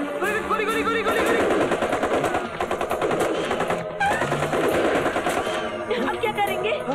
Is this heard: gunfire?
yes